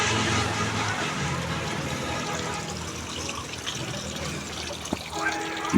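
Water flows steadily from a fountain at a restaurant in Kapasia, Gazipur, a continuous trickling wash that stays moderately loud throughout, with faint background voices and a brief clatter near the end.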